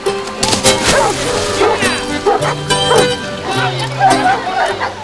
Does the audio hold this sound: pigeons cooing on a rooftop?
no